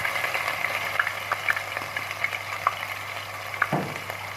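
Crushed garlic and ginger sizzle in a pan of hot oil, a steady crackling fry with small pops and a low hum, one louder spatter near the end.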